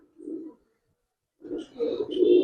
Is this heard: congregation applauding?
no